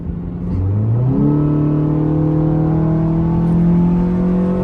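A 2017 Honda Civic 2.0 fitted with a short ram intake accelerates hard, its engine note rising steadily in pitch as it pulls through a gear, loud and close from inside the car with no talking.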